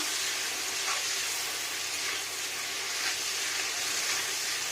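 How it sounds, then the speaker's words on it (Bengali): A banana flower and prawn mixture fries in a pan, giving a continuous loud sizzle with faint stirring scrapes, steady throughout and with no voices. "এবার এটাকে নাড়া দেব সুন্দর করে ভাজব ভুজিটাকে ফ্রাই ফ্রাই ফ্রাই"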